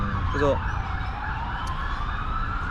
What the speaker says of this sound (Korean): 지금 앰뷸런스 소리 들리죠?